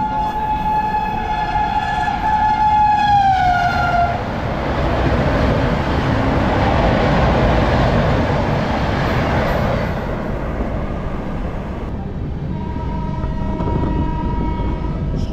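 Shatabdi Express passing on an Indian railway line near Kharagpur, loud and close, with a long horn blast followed by a sustained roaring rumble of carriages and a second horn toward the end.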